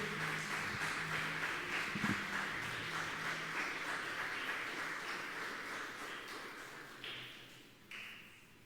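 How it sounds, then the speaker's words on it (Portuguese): A church congregation applauds with a soft, fairly distant patter of clapping that fades over several seconds, with a few brief tonal sounds near the end. "vamos aplaudir o Senhor, irmãos"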